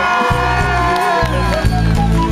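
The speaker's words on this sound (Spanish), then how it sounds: "quiero pedir un aplauso y un grito fuerte para la gente de Caraballo" A loud festive crowd cheers and shouts over pounding music at a live Peruvian TV party show, the roar sustained throughout with no clear applause distinguishable.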